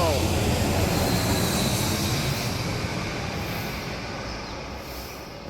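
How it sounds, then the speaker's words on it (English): An airplane flies low, directly overhead, above temple grounds on Koh Samui. Its loud, broad engine roar fills the whole clip and slowly fades as it passes. "A plane just literally flew right over the top of me."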